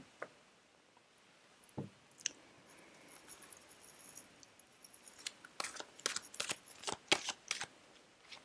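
Doreen Virtue angel tarot cards shuffle close by in quiet sporadic flicks that build into a rapid burst of crisp riffling snaps toward the end, with no talking.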